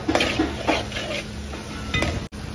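Masala being stirred and mixed in a cooking pan, a spoon scraping and clinking against the metal in a few quick strokes, close and fairly clear, with a faint steady sizzle underneath and no talking.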